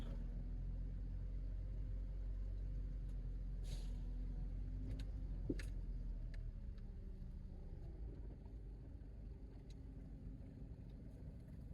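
Muffled road traffic heard from inside a moving vehicle, a low, constant engine and tire rumble with a few faint clicks and one sharp knock midway, no talking.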